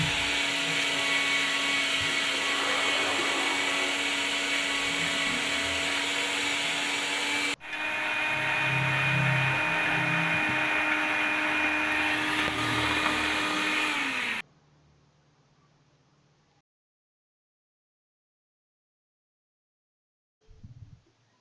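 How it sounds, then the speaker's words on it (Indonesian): An electric meat grinder runs loudly and steadily for about fourteen seconds while grinding cut patin catfish meat for nuggets, then cuts off, leaving a faint hum and a brief knock near the end. "Kemudian masukkan daging ikan patin yang sudah dipotong-potong tadi ke dalam mesin penggiling."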